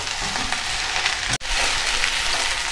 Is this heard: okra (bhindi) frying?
yes